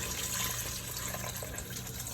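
Ketchup sauce mixture poured into a dish in a 1950s vintage recipe kitchen, a steady wet, liquid flow running continuously at moderate level with no talking.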